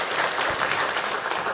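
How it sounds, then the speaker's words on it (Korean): A church congregation claps in a brief burst of applause, a dense even patter of many hands filling the room. "격려의 박수 드리겠습니다"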